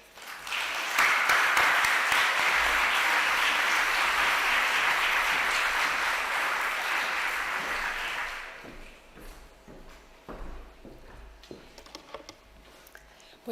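Warm applause from the audience at a national Spiritist congress in Calpe greets a speaker taking the stage. It swells quickly, holds steady for about eight seconds, then fades into a few scattered claps and murmurs.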